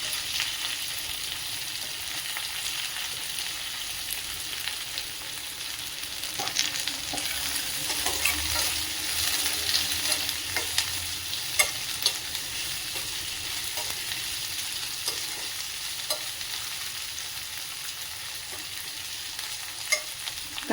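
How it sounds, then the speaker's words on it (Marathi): Finely chopped spring onion with a pinch of asafoetida sautés in a pan, a steady close sizzle broken by occasional scrapes and taps of a spatula, with no voices over it. "कांदा थोडा परतून घेऊया."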